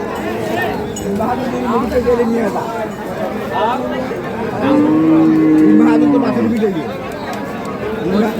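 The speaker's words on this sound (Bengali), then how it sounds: "আরও গরু আছে পাশে একবারে পিওর দেশি যে গরুগুলো রয়েছে" Cattle low at a village cattle market selling local dairy cows with calves. Several loud drawn-out moos rise from nearby over a busy hubbub of people talking.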